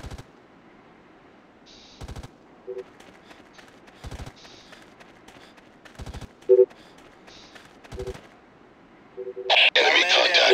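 Gunfire in the tactical shooter Ghost Recon: sharp bursts of shots recur roughly every two seconds against a quiet background, with brief radio-like chirps between them and a loud noisy burst near the end.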